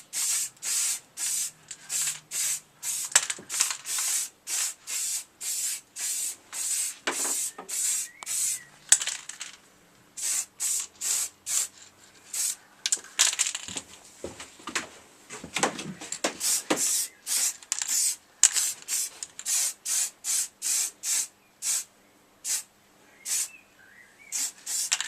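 Spray gun laying a light tack coat of paint in a garage, short bursts of hissing spray repeated in a steady rhythm with brief pauses between passes, close and clear, no voices.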